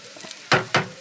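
Beetroot frying in a pan is stirred with two quick, loud scraping strokes over a soft, steady sizzle.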